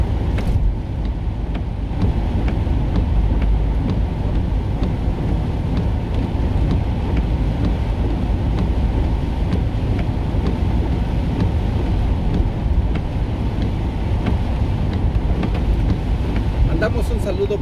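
Heavy downpour over the city of Xalapa heard from a moving car, a dense continuous roar of rain and road noise, loud and unbroken throughout.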